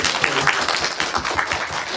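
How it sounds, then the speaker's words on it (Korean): A cinema audience at a film screening Q&A in a small theater claps for the film Green Night passing ten thousand viewers. The clapping is steady, dense and fairly close, with no voices over it. "일주일 만에 1만 관객을 돌파한 녹야에게도 박수 부탁드립니다"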